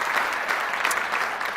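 Audience at a talk on confronting fears and increasing income applauds, a steady wash of clapping from a room of people, moderately loud and continuous throughout.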